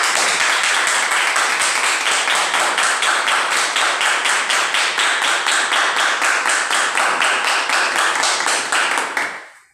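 Loud, close audience clapping after a public speaking skills session, a strong rhythmic unison beat of hands repeated quickly and steadily for about nine seconds before stopping abruptly.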